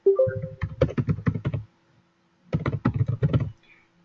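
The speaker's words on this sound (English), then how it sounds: "So if you want to change your password, type here" A password is typed on a computer keyboard in two quick bursts of close, crisp key taps separated by a short pause.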